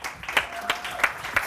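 Audience applause at a panel discussion on building Pan-African movements, heard as scattered, fairly soft clapping with several louder claps spaced through the moment.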